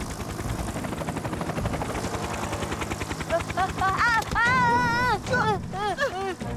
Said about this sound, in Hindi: टॉम थॉमस अपने हेलीकॉप्टर के साथ।